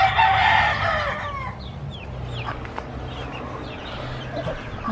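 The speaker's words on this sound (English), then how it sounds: "There's the hens." A rooster lets out a loud, close crow at the start in a backyard bird coop, followed by hens clucking in scattered, quieter bursts with no one talking.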